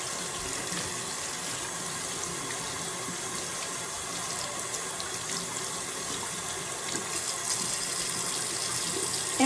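Tap water running steadily while a makeup brush is rinsed and swirled against a hand, a continuous close splashing flow with small fluctuations, moderately quiet and without speech.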